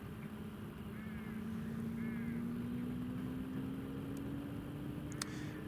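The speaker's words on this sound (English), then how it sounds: "the buzz has just started its other engine" An airliner at Newcastle International Airport starts its second engine. It makes a low, distant hum that slowly rises in pitch as the engine spools up over steady background noise, with faint chirps in the middle.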